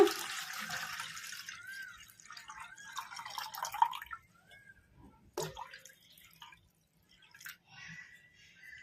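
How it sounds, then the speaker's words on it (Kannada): Liquid pours into a vessel for a few seconds, splashing and gurgling, then stops; a few faint clinks and drips follow in near quiet. "ಹುಳಿಗೆ ಎಷ್ಟು ಬೇಕೋ ಅಷ್ಟು ನೀರು ಹಾಕ್ಕೊಂಬಿಟ್ಟಿವಲ್ಲ"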